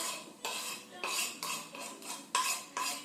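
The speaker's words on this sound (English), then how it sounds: "So you mix them very well" A spoon clinks and scrapes against a bowl in a quick, uneven rhythm, about six distinct strokes, while lemon juice and spices are stirred into a marinade for eggplant vegan bacon. Close and clear, with no talking.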